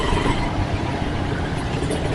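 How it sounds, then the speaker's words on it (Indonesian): Loud, continuous low engine roar from heavy traffic, a deep rumbling bus exhaust that holds steady throughout with no voices. "knalpot bus itu memang sangat menggebos sekali"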